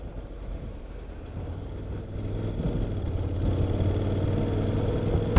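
A 2017 Honda X-ADV scooter on its first ride, the engine a steady low rumble growing slightly louder as it pulls away, mixed with wind rush.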